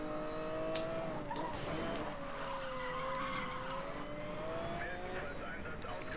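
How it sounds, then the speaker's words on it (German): A car in Need for Speed: Most Wanted accelerates and skids, tires squealing in long wavering tones over a steady engine roar, loud and close throughout. "Erst hier kann ich jetzt wieder Gas geben."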